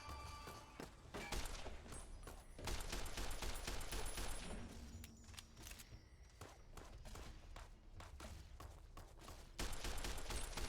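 Rapid bursts of gunfire crack out in Fallout: New Vegas, dense volleys of shots that thin out briefly and then resume, loud and close with no talk.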